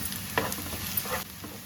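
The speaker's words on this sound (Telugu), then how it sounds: "మళ్ళీ కసూరి మేతి డ్రైగా కొంచెం వేయించి పొడేసుకోవాలా" Kasuri methi (dried fenugreek leaves) dry-roasting in a pan, with a soft steady rustle and a few light scraping stirs, close and fairly quiet, no talking.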